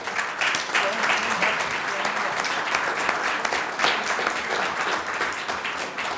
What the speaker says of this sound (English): I think another round of applause is in order